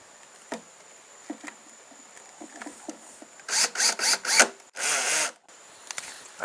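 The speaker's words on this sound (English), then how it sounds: "We'll use our old faithful old DeWalt" A DeWalt 18-volt cordless drill drives drywall screws into plywood, with a few short, close whirring bursts that follow scattered quiet taps and handling clicks, and no talk over them.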